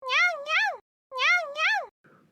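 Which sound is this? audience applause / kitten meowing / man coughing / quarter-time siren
kitten meowing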